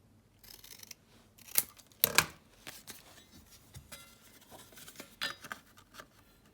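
Scissors snip through a paper template for a GM engine mount swap into a Land Rover Series 2A, giving a few quiet, close, irregular cuts and crisp rustles with soft handling noise between them.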